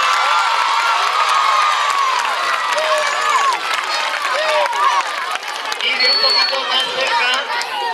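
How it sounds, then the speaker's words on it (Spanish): A school audience of children applauds and cheers for Osasuna footballer Silva during a club visit to a Tudela school, dense clapping mixed with shouts and chatter, with a voice speaking over the din. "Fuerte aplauso para el gato Silva"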